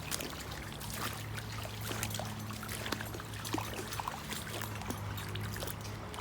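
Creek water flows and trickles steadily in a park woodland, a close, continuous wash of running water with small splashes throughout.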